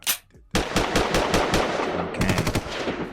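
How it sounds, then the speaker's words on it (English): A rapid burst of gunfire sound effect rattles off in quick, loud repeated shots like a machine gun, continuous for about three seconds after a brief opening crack. "Gunshots for that."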